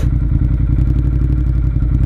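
A 2014 Ducati Monster 1200S engine fitted with an aftermarket Ducati Performance exhaust, running close and loud with a steady, rough, throbbing low rumble and faint clatter for a couple of seconds.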